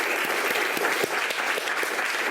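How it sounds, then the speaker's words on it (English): Sustained audience applause at an event gathering, many hands clapping densely and steadily throughout, fairly loud and close with no voices standing out. "So give everybody a hand who bought their event tickets."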